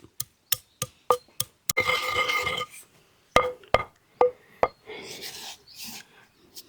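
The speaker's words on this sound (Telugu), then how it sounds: "ఇప్పుడు తీసేసుకొని వీటిని దంచుకుందాం రోట్లో మసాలా దినుసులు మొత్తం వేసుకొని చక్కగా నూరుకుందామండి" Sharp, regular thuds of pounding whole spices to powder in a stone mortar, sounding near, broken by short stretches of grinding and scraping.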